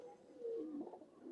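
A pigeon coos softly in a low, rolling murmur, a year-old bird kept at a home in Khulna and coming back down after being flown, heard close with no one talking.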